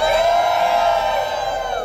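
A large outdoor crowd at the Sun Prairie, Wisconsin Groundhog Day event cheers and whoops loudly and continuously, a dense roar of many voices that tapers slightly toward the end.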